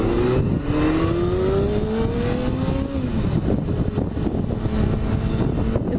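A 2019 Kawasaki Ninja ZX-6R, a 600-class sport bike, accelerates hard, its engine note climbing steadily and shifting through gears, loud and close with constant wind rush over the microphone.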